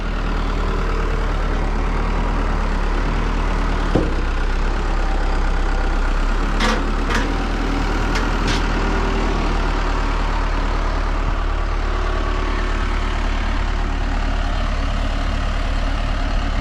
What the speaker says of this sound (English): Sure is handy having a backhoe around with an operator.